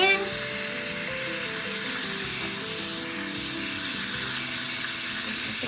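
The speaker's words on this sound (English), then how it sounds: "Some warm water." Warm tap water runs steadily into a sink for washing a dirty plush teddy bear, a constant hiss and splash with no pauses throughout.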